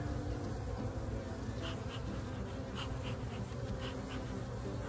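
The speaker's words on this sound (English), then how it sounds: "That's a proper box of bugs there." A swarm of honeybees confined in a box makes a continuous, dense buzzing drone with small pulsing swells. It sounds close and steady throughout, with no talking.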